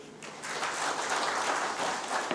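Audience applause at an event, a dense steady clapping from a crowd heard throughout the short stretch.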